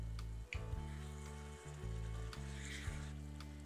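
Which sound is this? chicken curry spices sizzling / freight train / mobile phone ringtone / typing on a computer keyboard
chicken curry spices sizzling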